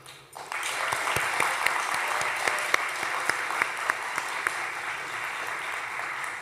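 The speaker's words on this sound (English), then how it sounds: "graduates, please join me in applauding all your family members, friends, faculty, and staff who have supported you throughout this journey" Graduation ceremony crowd at Ivan Allen College of Liberal Arts breaks into sustained applause for families, friends, faculty and staff, a full, even roar of clapping that swells quickly and holds steady.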